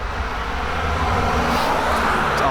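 Steady low rumble of traffic, cars passing along a road near Mount Mansfield, Vermont, at a moderate distance, continuous with no talking.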